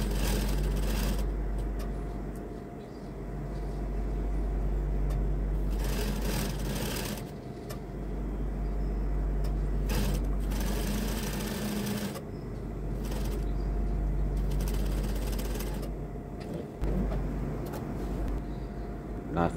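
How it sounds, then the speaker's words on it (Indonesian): A sewing machine stitches stiff interfacing fabric for a koko shirt collar with a steady, rapid mechanical whir. The run is continuous and close, with brief surges and slowdowns. "Jahit satu sepatu, jahit di bagian kain kerasnya"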